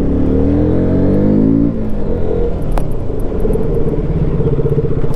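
Motorbike arriving home, its engine droning loud and close at first, then easing to a lower rumbling idle as it slows to park.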